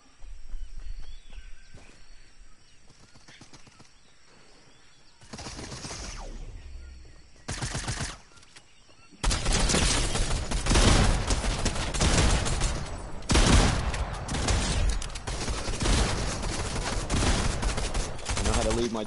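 Charge SMG fire in Fortnite, faint distant bursts giving way to loud, dense, sustained rapid gunfire with scattered shots, while players talk over it.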